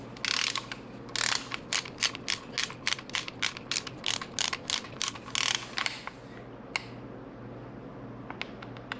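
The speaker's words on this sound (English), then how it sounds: "So this will get torqued to 106 inch pounds, and we have the oil pump installed." A ratchet wrench clicks in quick bursts while tightening the bolts on a Melling oil pump for an LSX engine. The clicks are close and fairly loud, with brief pauses between runs and a few scattered final clicks.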